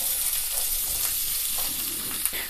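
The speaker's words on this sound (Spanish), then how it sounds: "Esta cebolla que teníamos picada la vamos a colocar dentro del aceite" Chopped onion drops into hot oil in a pot and fries with a dense, steady crackling sizzle, with soft stirring bumps underneath, close and continuous.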